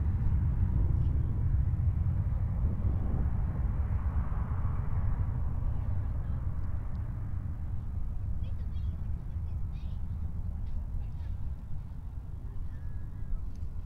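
A Qantas Fokker 100 jet departs from runway 03 at Perth Airport, a distant low engine rumble and roar that gradually fades, heard outdoors with no clear talking.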